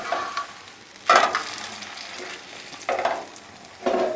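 A maize roti cooking in desi ghee on a pan, heard as a soft sizzle broken by three louder bursts of scraping and flipping with a spatula. No one speaks.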